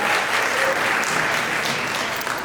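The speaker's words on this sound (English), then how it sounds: "going to give a big round of applause" An audience at a fashion show applauds steadily throughout, dense clapping filling the room at an even loudness.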